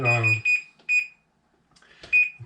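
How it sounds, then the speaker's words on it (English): A kitchen timer is set while pizza is being made, giving several short, high electronic beeps, with a voice speaking briefly near the start. "We'll put the timer on"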